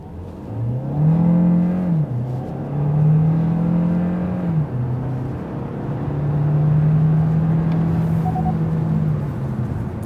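A Hyundai Tucson hybrid SUV accelerates hard from a standstill in rising whining sweeps, pitch climbing then dropping with each gear change, loud and close with no talking.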